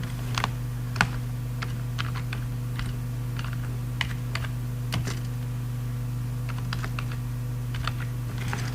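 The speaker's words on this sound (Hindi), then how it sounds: "आपने यहाँ पे आके अपना नेम टाइप कर लेना है।" Someone types a database name in Microsoft Access on a computer keyboard, a close series of irregular light key clicks over a steady low electrical hum.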